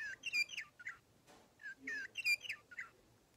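A cat's toy bird chirps in short, bright electronic tweets, repeating in bursts with brief pauses, fairly close in a quiet room.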